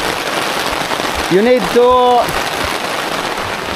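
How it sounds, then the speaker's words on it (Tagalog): Heavy rain falls steadily as a broad hiss throughout, with a brief voice speaking over it in the middle. "Lumakas na ang ulan."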